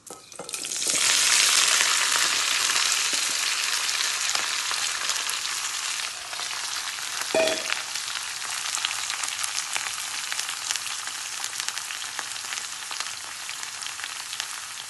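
Ridge gourd pieces are dropped into hot tempering oil with green chillies, onions and curry leaves. A loud, hissing sizzle bursts up at once, then settles into a softer, steady frying crackle with a stir midway.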